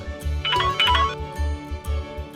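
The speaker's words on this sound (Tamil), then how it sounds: "என்ன சாரதா ஃபோன் பண்றா?" An incoming-call phone ringtone plays loudly and close, a repeating electronic melody with a steady pulsing beat and bright chiming notes, with no talking over it.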